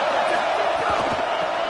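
A stadium crowd roars at a Clemson at Florida college football game, a dense, steady wash of cheering voices filling the whole moment with no clear breaks.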